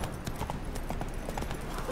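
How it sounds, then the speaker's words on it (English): Horse hooves clip-clop steadily in The Witcher 3 as the rider's mount moves along, a continuous rhythmic patter of hoofbeats with no talk over it. "Giddy up. Slow now. Whoa. Come on, Roach"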